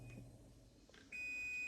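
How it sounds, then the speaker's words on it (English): A kitchen timer goes off after okra simmers, giving a faint short beep, then a steady high electronic tone that holds at moderate level over quiet room noise. "you can hear the timer going off"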